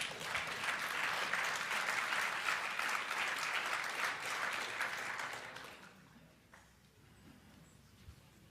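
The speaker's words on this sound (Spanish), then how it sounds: "Aplausos." A lecture audience applauds loudly and steadily after an economics talk; the dense clapping holds for about six seconds and then fades away to quiet room tone with a few scattered claps.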